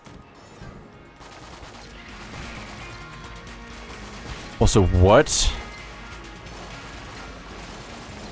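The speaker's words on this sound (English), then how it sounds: "Why are there explosions randomly?" A couple of sharp, loud explosions in Enter the Gungeon burst out in quick succession over steady background game noise, with a voice speaking briefly.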